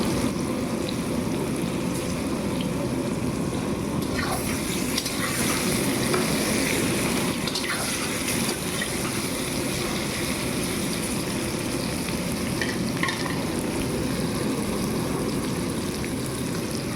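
Potatoes for a fish dish, salted and coloured with spice powder, fry in hot oil with a steady, dense sizzle that runs unbroken and close throughout, with occasional faint stirring clicks over it.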